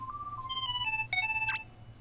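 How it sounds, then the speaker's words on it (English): A cell phone rings in the video game Kingdom Hearts 3, a bright electronic ringtone of short rising and falling tones repeating over a low, steady background hum, with no voices. "Phone call."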